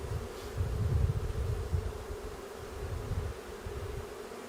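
Honey bees buzz in a steady, low drone while a package is eased into a hive, a close, continuous hum swelling slightly in loudness without talk.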